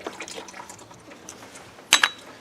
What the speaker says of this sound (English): So we're just draining it out.